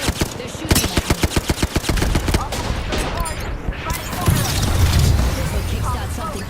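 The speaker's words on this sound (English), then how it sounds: "They're shooting at me." Gunfire in a video game, opening with a rapid, evenly spaced burst of loud automatic shots, then settling into a dense, rumbling barrage of mixed fire.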